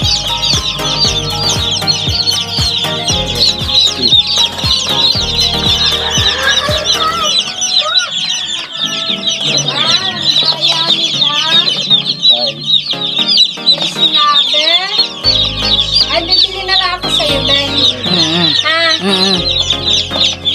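Chicks and hens cluck and cheep continuously in a dense, close chorus of high peeps and lower clucks, with occasional fowl calls rising above the steady flock noise.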